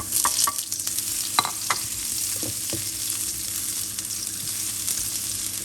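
Chili and garlic stir-fried in a pan for a dry-chili long bean dish, with a steady oily sizzle and a few sharp scrapes of a spatula against the pan.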